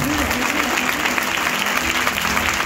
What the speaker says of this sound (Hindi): मैं कहता हूं खींच के ताली बजाओ जो ऊपर जाए हेवन में